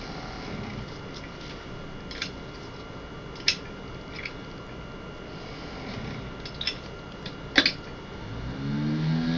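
An unbalanced benchtop centrifuge spins down small tubes with a steady whirring hum, faint ticks and knocks, and a rising tone as it speeds up near the end.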